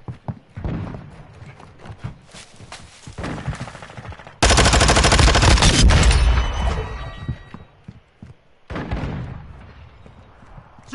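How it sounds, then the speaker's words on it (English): Rapid automatic gunfire bursts from a Modern Warfare 2 campaign firefight, loud and close, with a dense sustained volley in the middle and short choppy bursts before and after, no talking. "Están disparando."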